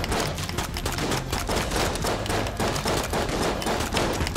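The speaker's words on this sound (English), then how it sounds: "What's shooting us?" Dense, continuous gunfire rattles without pause in the co-op twin-stick shooter Enter the Gungeon as enemies fire on the players, rapid shots overlapping loudly throughout with no talk.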